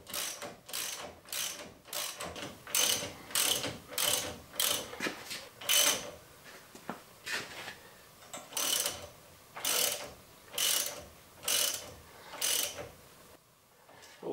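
A hand ratchet snugging bolts during a rear disc brake conversion, clicking in a regular series of close, crisp bursts of repeated pawl ticks with short pauses between strokes, no voices.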